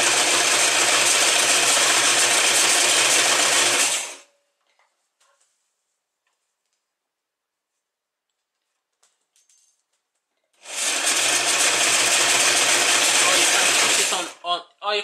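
A knitting machine carriage runs loudly across the bed, stitching a gathered skirt close to the cast off band, with a long quiet pause between two passes.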